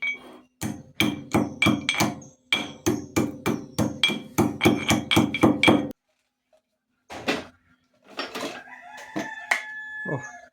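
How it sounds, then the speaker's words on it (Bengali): Beet salt, a black salt, is crushed for mixing with guavas, with a rapid series of sharp pounding knocks in two bursts, then a pause and a few scattered thuds, close by, as a rooster crows in the background. "এখন আমি পেয়ারাগুলো মাখানোর জন্য কিছুটা বিট লবণ গুঁড়ো করে নেব।"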